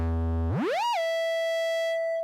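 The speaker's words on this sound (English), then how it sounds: "the self-oscillation of the filter, sine wave" A Joranalogue Collide 4 filter pushed into self-oscillation: a buzzy harmonic tone swoops upward, then settles into a pure, steady sine whistle that holds alone and clearly.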